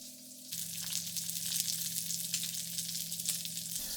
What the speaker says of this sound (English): made sure it didn't sound like it was frying too hard